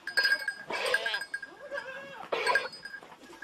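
Goats bleat on a farm in Afar, several loud wavering cries close by, rising and falling with brief gaps and faint background noise between calls.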